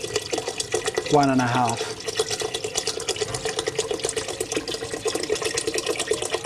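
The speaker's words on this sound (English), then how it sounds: "Now I need to add boiled water" Boiled water poured into a medium soup pot of Moroccan harira, a steady splashing stream running under a brief spoken phrase, close and continuous.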